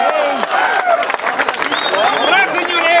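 A crowd at a three-wall handball match in Marina Park claps and cheers with dense, busy applause, loud and close, mixed with voices talking over it.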